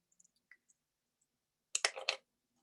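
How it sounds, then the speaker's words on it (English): Scissors snip through strands of small faceted rondelle beads, a short cluster of crisp cuts after a few faint clicks, close and fairly quiet. "let me cut our strands here."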